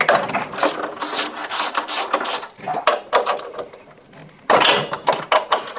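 A ratchet clicks in quick bursts while undoing a plate on a built-in integrated Bosch washing machine, several rapid runs of loud, close clicking with a brief pause before the last burst.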